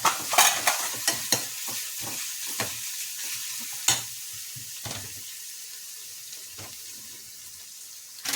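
Onions frying in a pan on a home stove, with sharp spoon scrapes and clinks of stirring over a steady, broadband sizzle, most active early and quieter toward the end.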